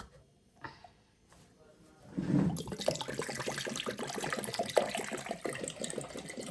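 After a few quiet clinks and knocks, ice water pours steadily into a container to make buttermilk, a close gushing splash that continues to the end.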